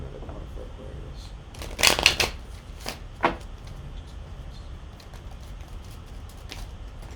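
Tarot cards are shuffled close by in a quick riffle, with a few crisp slaps and flutters over a steady background hiss before things go quiet again.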